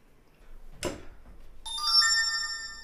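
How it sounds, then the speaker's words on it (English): A mobile phone ringtone starts suddenly and plays a steady electronic melody of bright sustained tones, following a single sharp knock. Nobody speaks. "There goes my phone"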